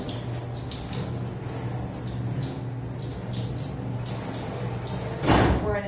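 Tap water runs steadily from a faucet into a sink while arms are wetted for a surgical scrub, a continuous close hiss and splash that swells briefly near the end.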